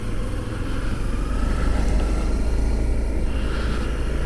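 Honda CRF250L motorcycle riding along, a steady engine drone mixed with wind rumble that holds loud and even throughout with no talking.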